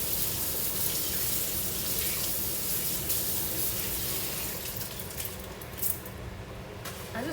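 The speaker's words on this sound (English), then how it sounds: "I just wash my hands and then run it under some more cold water" Cold water runs from a kitchen tap while hands are washed beneath it, a steady close gushing splash into the sink that eases slightly toward the end.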